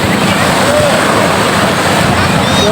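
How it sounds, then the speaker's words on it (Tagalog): Sea waves wash onto a beach in a loud, continuous roar, mixed with strong wind buffeting close to the microphone. "Ito hinihintay ko, makarinig ng alon ng ano eh."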